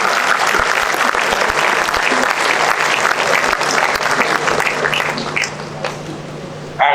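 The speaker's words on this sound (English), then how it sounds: "A round of applause for yourself." An audience at an induction ceremony breaks into dense, sustained applause, a loud wash of many hands clapping that tails off near the end.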